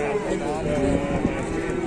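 A giant cow at a livestock sale gives one low, drawn-out moo close by, with a busy crowd and voices in the background.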